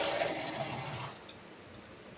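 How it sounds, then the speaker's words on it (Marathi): Water is poured over ragi grains in a bowl to wash them, a splashy pouring rush for about a second that quickly fades to quiet. "आता परत एकदाच पाणी घालून आपण छानपैकी"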